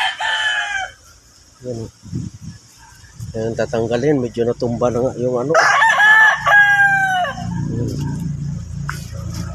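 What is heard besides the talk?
roosters crowing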